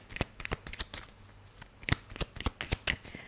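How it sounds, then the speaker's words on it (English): Crisp, rapid card shuffling with repeated riffles and snaps, close and fairly loud, in irregular bursts with no voices. "let's shuffle, shuffle, shuffle. And let's split the deck"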